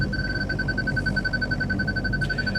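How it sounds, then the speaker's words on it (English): Aftermarket parking sensors in a Suzuki Alto beep in a rapid, even series of short tones, clear over a low engine rumble inside the car. "I would say that is the sound of some aftermarket parking sensors."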